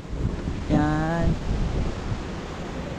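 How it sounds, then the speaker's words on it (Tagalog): Strong sea waves crash and wash onto a beachfront shore in Dingalan, a steady broadband roar with wind buffeting the microphone; someone speaks briefly over it near the start. "Yun yung dagat Lakas ng alon ngayon, grabe ko."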